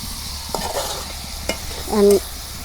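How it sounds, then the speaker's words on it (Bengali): Broiler chicken curry stirred in a pan, with a few spoon scrapes and knocks over a low sizzle, one brief louder scrape near the end. "এই দেখো নাড়াচাড়া করে দিতেছি।"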